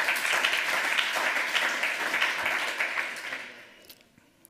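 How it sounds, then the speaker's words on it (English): Audience applause at a hacker conference lightning-talk session, a sustained dense wash of clapping from a large crowd that gradually thins and fades toward the end, with a few last isolated claps. "give them a round of applause for getting that"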